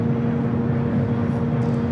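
Airliner jet departing Los Angeles International Airport for Paris, a steady, loud broadband engine roar with a sustained low rumble, heard at a distance without pauses and no voices over it.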